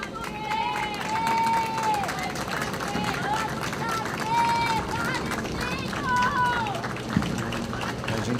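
A large crowd applauds steadily as the bodies of the Chapecoense air crash victims arrive, with sustained clapping, babble and a tonal whistle or siren over it, a voice speaking throughout.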